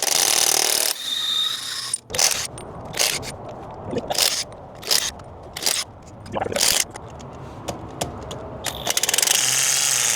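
A torque wrench working RV wheel lug nuts, with a run of sharp mechanical clicks and ratcheting bursts at close range, separated by short pauses and scraping.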